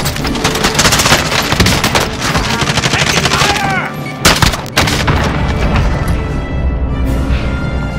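Gunfire in Call of Duty Warzone on Rebirth Island, loud rapid bursts of automatic shots from an FN Minimi and an AA-12 shotgun, dense and continuous with a few sharp booms and brief gaps.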